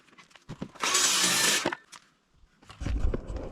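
A power drill driving a screw to make a pilot hole in wooden boards whirs briefly for under a second at close range, bracketed by soft handling clicks and a low thump afterward.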